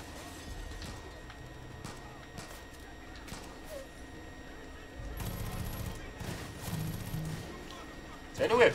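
Fully automatic gunfire in Far Cry 5 crackles in quick bursts, faint and scattered at first, then heavier toward the end, with people talking over it.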